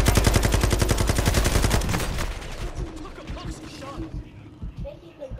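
Loud rapid machine gun fire from an LMG in Warzone, a dense rhythmic burst that stops after about two seconds, followed by scattered quieter game noises.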